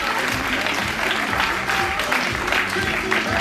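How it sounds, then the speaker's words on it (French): Audience at a French community event applauds loudly and steadily, a dense wash of clapping with voices mixed into the crowd noise throughout. "je crois qu'on peut les applaudir encore une fois très très fort"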